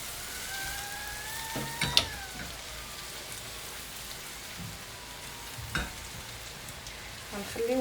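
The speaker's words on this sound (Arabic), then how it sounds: "غنخليو البصل مع الطماطم يتقلاو" Onions and tomatoes, with optional garlic cloves, frying in a pan for vegetable soup, giving a steady low sizzle with a few brief clinks and stirring bumps.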